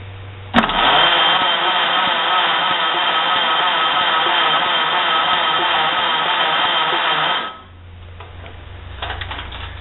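A compressor built from a Ford Model A engine starts with a sharp kick and runs at a steady, loud, even chug for about seven seconds, then shuts down, leaving a faint idle-like rumble and light rattling.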